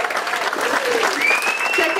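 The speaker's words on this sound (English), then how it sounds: "Give him another round of applause" Crowd applause at the 2015 Sarasota Folk Fest after a performer's set, a loud sustained roar of clapping with a high whistle cutting through and a voice speaking over it.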